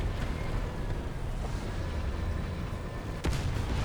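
A tank cannon firing in War Thunder: one sharp, heavy boom near the end, cutting through a continuous rumble of engine and ambient battle noise, no talk.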